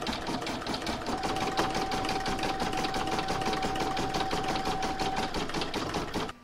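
Embroidery machine stitching a satin stitch around a heart on a placemat, a fast, even, loud mechanical chatter running steadily for several seconds before stopping abruptly.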